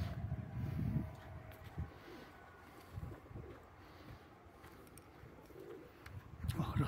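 Pigeons at a loft cooing in soft, low, repeated calls over quiet outdoor background noise, with someone speaking intermittently.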